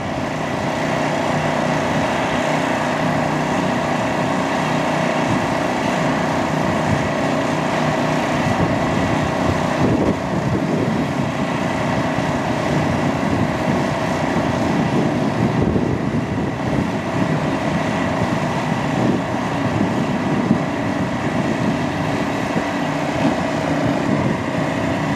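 A hot air welder seals roofing membrane seams outdoors, giving a steady, continuous blower whir and hum that holds at an even level throughout, mixed with wind noise.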